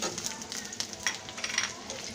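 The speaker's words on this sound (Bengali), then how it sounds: "আদা রসুনটা দিয়ে আমি একটু ভেজে নেব যাতে করে কাঁচা গন্ধটা না থাকে" Onion fries with ginger and garlic paste in a pan for masoor dal, giving off a steady close sizzle with a few crackling pops and light stirring.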